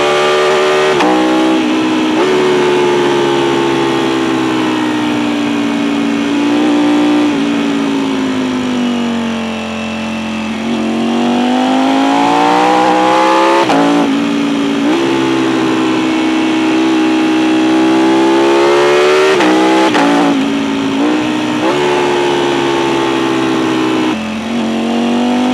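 A Ducati Panigale V4 Speciale on track, its engine revving hard through rising and falling pitch sweeps, loud and close, with repeated surges and drops as the rider shifts through the gears.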